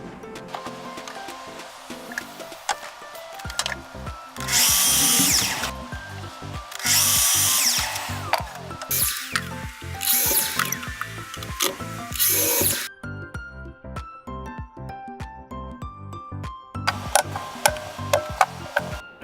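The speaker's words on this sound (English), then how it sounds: "I'll do that on my chop saw." Power saw cutting brittle pallet wood for a planter frame, with several loud high-pitched cutting bursts separated by quieter motor spin-down and workshop clatter.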